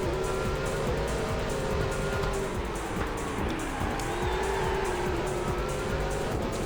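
Race cars in a PS2 Le Mans endurance racing game, a steady loud engine drone with shifting pitch and tire noise, cars passing by continuously with no break.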